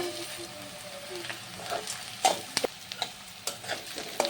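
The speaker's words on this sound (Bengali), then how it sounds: "এখন আমি গোটা মশলাগুলোকে দিয়ে দেব" Whole spices dropped into onions frying in a pan, giving a soft steady sizzle with intermittent stirring scrapes and clicks, moderately close and fairly quiet.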